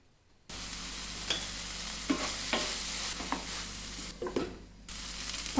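Vegetables and peas for pav bhaji cooking in a covered pan, a steady soft sizzle with a few light stirring clinks and taps, heard close and alone.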